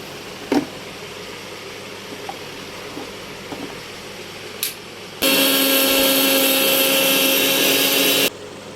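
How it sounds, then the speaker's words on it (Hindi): An electric kitchen grinder runs for about three seconds, loud and steady, coarsely grinding a spice masala for buttermilk (chaas). A few faint knocks come before it in a quiet room. "तो चलो मैं इसको ग्राइंड कर लेती हूँ।"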